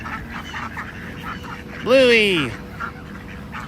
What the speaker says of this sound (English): Ducks are hungry.